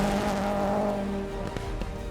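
New generation rally cars at an Australian Rally Championship event, engines revving hard at close range with a rising, gritty roar and a brief tyre scrabble partway through.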